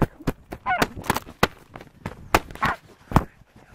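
African geese honk in loud, sharp bursts repeated irregularly close by, some calls overlapping, with other fowl noises among them and no speech.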